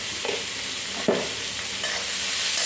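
Chopped onion sizzles steadily in a pan for a wild khurasani greens dish, with a soft scrape of stirring and one brief clatter of the spoon midway, fairly close and without voices.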